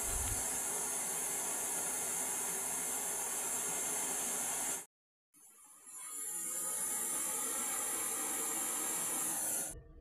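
Compressed gas rushes into a refrigerator pipe being pressurised to 250 PSI for a leak test, producing a loud, steady hiss that cuts off briefly midway, then resumes and holds.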